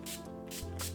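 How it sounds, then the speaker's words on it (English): NYX Matte Finish setting spray misted from a pump bottle during a makeup routine, three quick close bursts of hissing spray within a second, no talking. "I'm spraying with the NYX Matte Finish,"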